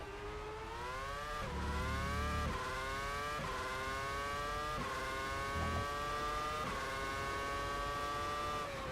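A Ferrari F2007 Formula One car laps Magny-Cours in a racing sim, its engine wailing close and steady through about six upshifts, each climbing pitch breaking with a quick dip.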